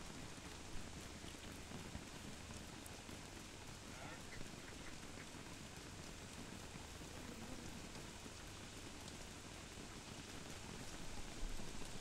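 Steady hiss of game rain in Don't Starve falls as a dense, even wash that holds at the same faint level throughout, with no voices over it.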